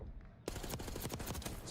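Rapid bursts of automatic gunfire from a Black Ops 6 esports match break in after a brief quiet start, loud close shots in a fast staccato run.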